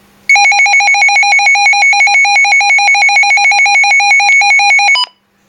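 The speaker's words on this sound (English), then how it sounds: "This is where you can hear what your weather radio will sound like." A Midland WR-100 weather radio sounds its alert test tone: a loud, steady, shrill electronic beeping pulse with a rapid warble that holds for about five seconds and then cuts off abruptly, with nothing else audible.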